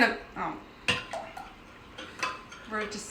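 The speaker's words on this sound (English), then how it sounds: "So just mix the egg and the cream, the 1/2 and 1/2 together until it's one homogeneous mixture" A metal spoon clinks and scrapes in a bowl, stirring egg with half and half for mac and cheese, with several sharp taps and soft swishing strokes up close.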